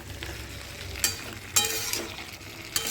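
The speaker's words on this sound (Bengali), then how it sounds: "এঁচোড় আর আলুটা দিয়ে খুব ভালো করে আরেকবার নাড়িয়ে চাড়িয়ে কষে নেব" Jackfruit and potatoes with spices are stirred in a hot pan, giving a soft continuous sizzle broken by a few sharp scraping strokes of the spoon.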